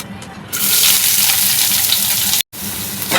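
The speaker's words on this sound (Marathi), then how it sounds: "आता मी एक मोठा कांदा घेतलेला तो मध्यम आकाराचा कट केलेला आहे तो मी घालत आहे" Chopped onion, cut medium-sized, hits hot oil with mustard seeds and curry leaves for a spicy Malvani-style misal, setting off a loud, steady sizzle that starts abruptly and breaks briefly near the end before resuming.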